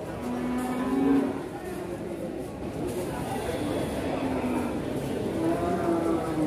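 Young feeder cattle at the Pasar Kliwon livestock market in Kudus give low moos, one near the start and another toward the end, over a steady murmur of market crowd noise.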